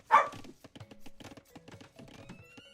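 A dog named Dash giving one sharp close bark indoors, followed by quieter clicking keystrokes from a computer keyboard.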